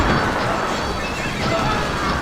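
Horses in a strategy video game whinny under a busy wash of game noise, with hoofbeat clip-clops and probably a voice talking over it.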